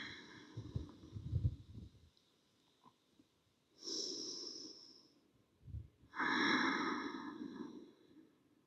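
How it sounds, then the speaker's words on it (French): Slow breaths during an energetic yoga flow, a soft inhale and exhale, a pause, then two long audible sighing breaths, close and quiet. "Et je me concentre sur ma respiration."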